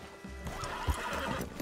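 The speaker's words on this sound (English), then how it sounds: "Send your horse somewhere safe." Horse neighing with hoofbeats in the video game Red Dead Redemption 2, set near woodland during a wolf hunt; a single close, loud whinny rises over steady clip-clop and an ambient game background.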